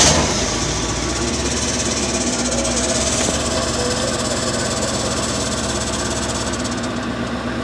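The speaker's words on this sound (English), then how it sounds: "Start the car." A car engine idles steadily and loudly throughout, a dense mechanical drone with a slight change in texture partway through, heard alone without talk.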